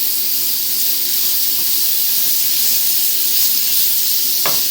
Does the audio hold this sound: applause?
no